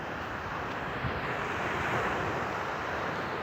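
Waves wash steadily onto a clean white-sand beach at a resort, forming a continuous broadband roar mixed with wind noise, fairly loud and unbroken.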